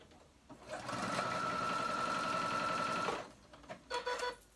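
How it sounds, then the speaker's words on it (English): A home sewing machine stitches a seam in one steady burst of about two seconds with a whirring hum, then stops abruptly, leaving quieter handling noises and faint room sound. "My machine came unthreaded and I didn't even know it. Don't you love it when you're sewing?"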